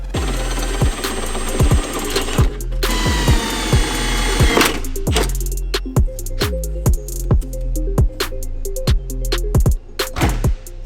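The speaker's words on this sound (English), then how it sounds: "if we drill the holes, they'll still be able to bolt up" Power drill whirring in repeated short bursts drilling holes in BMW E36 car panels, each run starting and stopping with a sharp rising whine, close and loud, with scraping and clatter between bursts.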